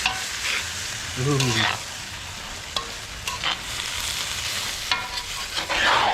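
Beef and broccoli stir fry sauce bubbling and sizzling in a cast iron wok on a camp stove outdoors, a steady close fry with occasional clinks and a brief exclamation from a voice.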